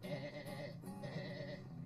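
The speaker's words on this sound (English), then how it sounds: "This is our St. Croix sheep." A St. Croix sheep on a ranch gives two wavering bleats in close succession, moderately close and fairly quiet, with no speech over them.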